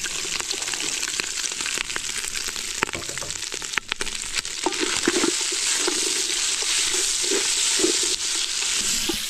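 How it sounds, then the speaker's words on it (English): Meat and onions fry in a pan with a steady, dense sizzle, broken by occasional clatters and scrapes of stirring, close and continuous throughout. "So we are going to let our meat turn golden brown."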